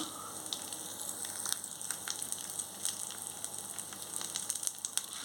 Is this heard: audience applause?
no